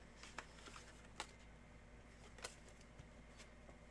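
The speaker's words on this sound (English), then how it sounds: "So here is your first shuffle." Tarot cards being shuffled by hand during a reading, a quiet riffling broken by a few crisp, brief snaps of the deck spaced through the stretch, with no talk over it.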